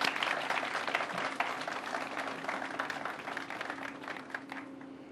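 Applause from an outdoor audience at a groundbreaking ceremony for a state housing headquarters, a steady wash of clapping that slowly thins, with a faint hum underneath.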